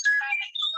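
A phone ringtone chirps briefly in a quick electronic melody of bright tones, close and clear, with no talking over it.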